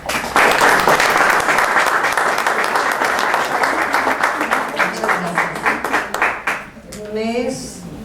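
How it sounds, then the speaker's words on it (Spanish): Sustained audience applause at an evening lecture event, a dense, even wash of clapping that fades out, followed by a voice beginning to speak. "Recibámosla con un aplauso."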